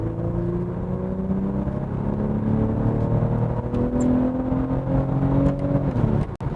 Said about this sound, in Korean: 배기음도 나름 훌륭하고 괜찮고 하는데 약간 묵직하네